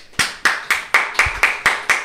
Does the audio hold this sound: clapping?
yes